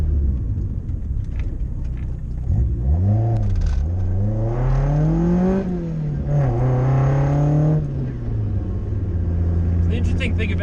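A Toyota AE86 street car, garaged for 20 years, drives along as its engine revs climb, dip and rise again through gear changes, a rumbling tone heard close from inside the car with a person talking over it.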